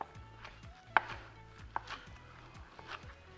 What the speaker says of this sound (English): we're gonna start and go ahead chopping up our garnish for our potatoes. Like to start out with a little bit of green onion.